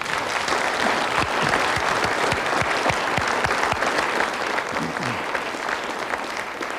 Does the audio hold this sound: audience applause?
yes